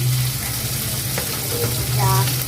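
A large fish frying in a pan, a loud, continuous close sizzle with some crackling spits, heard alone without speech.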